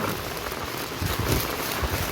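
Steady rain patters loudly beneath mango trees in the Konkan during the first unseasonal downpour, a dense continuous hiss with no voices.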